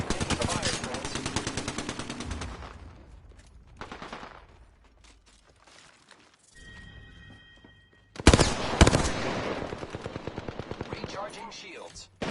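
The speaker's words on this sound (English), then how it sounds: "The enemies are shooting at me." Rapid bursts of video game gunfire from enemies, loud and dense at first, thinning to sparse shots with a lull in the middle, then surging again into sustained automatic fire toward the end.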